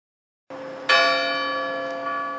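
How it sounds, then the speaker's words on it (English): A church bell strikes one o'clock with a single loud, resonant stroke that rings on and slowly decays, preceded by a soft low hum. "Scrooge had no occasion to be told that the bell was again upon the stroke of 1"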